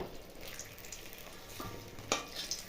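Eggplant slices frying in hot oil for doi begun, a steady soft sizzle with occasional stirring clinks and scrapes, no voices.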